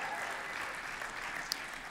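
An audience at the Western Conservative Summit 2019 applauds and cheers in a political conference hall, a brief, fairly faint wash of clapping throughout.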